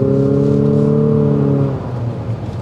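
A 2023 Infiniti QX50 Sport cruises on the interstate with a steady droning engine hum and road noise inside the cabin, then the tone drops as the drone eases after about two seconds; no talk.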